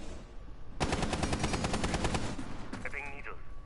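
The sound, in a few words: gunfire in video game esports match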